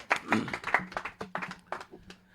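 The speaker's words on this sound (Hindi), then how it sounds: "चलिए, जो एक बार जोरदार अरुण जी के लिए तालियां।" Audience applause for a poet at a national kavi sammelan poetry gathering: a short run of scattered, fairly crisp handclaps in separate bursts, moderately loud and fading out toward the end.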